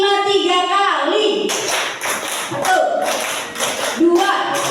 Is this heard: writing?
no